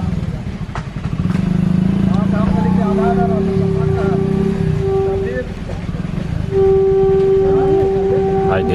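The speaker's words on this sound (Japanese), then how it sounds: "プーッと聞こえてますか。 これがインドの電車です。" An Indian train sounds two long, loud horn blasts at a busy level crossing as a slow coal freight train approaches a nearby station, over idling motorbike and car engines with someone talking.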